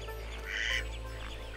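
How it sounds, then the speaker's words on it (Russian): River ducks such as mallards, teals, pintails, wigeons and shovelers wintering along the shore at Absheron National Park, giving a faint, brief burst of calls over a steady low background. "Ближе к берегу держатся утки речные – кряквы, черки-свистунки, шилохвости,"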